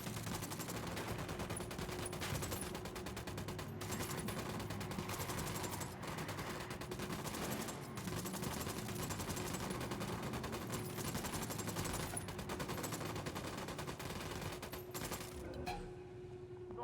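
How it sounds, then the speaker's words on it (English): Sustained video game gunfire during a night raid: dense, rapid bursts from automatic weapons roll on continuously at a moderate distance, steady and unbroken. "Acabo de escuchar un tiro"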